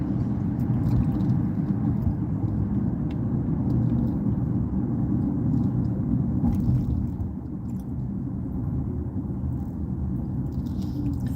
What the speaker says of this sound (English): That's if we can get there with this traffic.